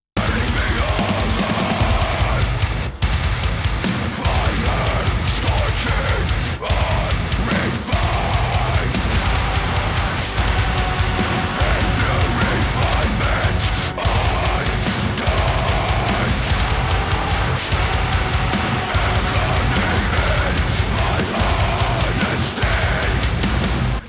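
A djent metal breakdown with layered heavy guitars in a finished mix, a dense, loud, distorted wall of sound with pounding chugs and drums that runs nonstop for the whole stretch.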